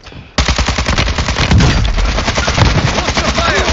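Rapid automatic gunfire in Call of Duty Modern Warfare 2 DMZ, loud, close bursts that hammer continuously for several seconds after a sudden start, with no speech over them.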